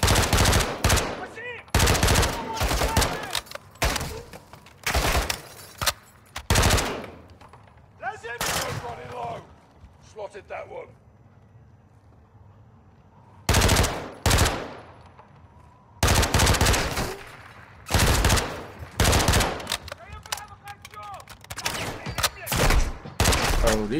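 Automatic weapons fire in Call of Duty Modern Warfare 2 erupts in loud, close bursts separated by brief pauses, with talking in the quieter gaps between volleys.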